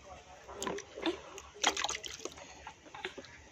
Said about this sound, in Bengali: মাথায় একটু জল দিয়ে দেবে।